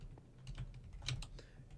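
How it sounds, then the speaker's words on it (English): Keys clatter on a computer keyboard during a Minecraft Factions game session, a quick uneven run of close, crisp clicks heard alone with no talking. "I have such a problem typing in the word raid for some reason"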